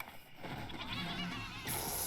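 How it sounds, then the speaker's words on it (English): A goat bleats in the horror video game Sker Ritual, a raspy, wavering call heard at moderate level over a dense, noisy game soundscape. "go ahead and start guiding the goat"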